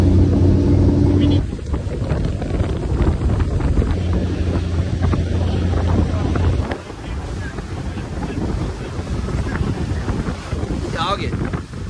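A fishing boat runs across the water at Sebastian Inlet, Florida, its engine a loud steady drone mixed with heavy wind buffeting the microphone and splashing water, easing partway through.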